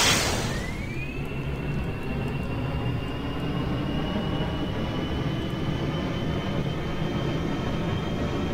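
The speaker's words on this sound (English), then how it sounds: "Jet engine start." A jet engine in the Kerbal Space Program game spools up at full throttle, a rising whine settling into a steady high tone over a loud, continuous roar that holds unbroken for several seconds.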